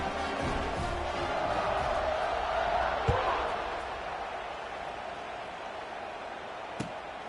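A football stadium crowd roars in a broad, sustained swell before a kickoff, with a couple of sharp thuds breaking through the steady din.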